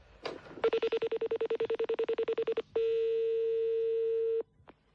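A telephone call being placed: a short click, then a rapid even train of pulsed tones, followed by a single long steady tone that cuts off, clear and close with no voices.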